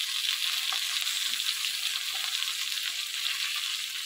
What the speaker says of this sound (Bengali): দেখুন বন্ধুরা, কত সুন্দর ভাজা হচ্ছে